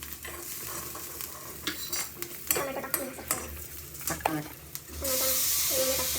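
Egg bhurji being stirred and sautéed in a pan, with repeated metal spoon scrapes and clinks against the pan over a soft sizzle, then a louder hissing fry toward the end; voices talk faintly in the background.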